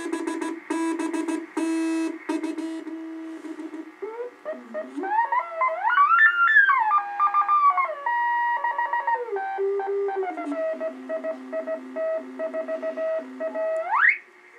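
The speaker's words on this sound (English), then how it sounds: "right now there's two CW stations that you can hear" Morse code beacon signals come through a Yaesu FT-620B ham radio receiver as clean keyed beeps at first, then sliding, warbling tones as the dial moves, ending in a rising whistle. No one speaks.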